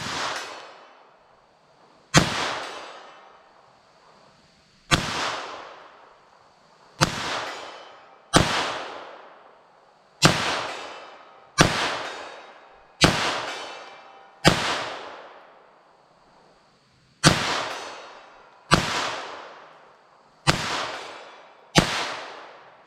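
A .22 Magnum rifle fires Winchester Super-X Hypervelocity rounds in a string of about thirteen sharp, loud cracks, each followed by a short ringing decay, spaced unevenly a second or two apart with a few quick pairs.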